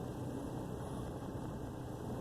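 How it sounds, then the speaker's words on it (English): A faltering truck engine idles low and rough close by, a steady rumbling drone with vibration and no voices. "Still idling low. I can feel the vibration of the engine."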